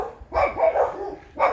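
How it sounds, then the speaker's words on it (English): A dog outdoors at a house near the ocean barks at a person and a neighbor's dog: one bark bursts out, a second follows after a pause, both loud and close. "barking at me and the neighbor's dog"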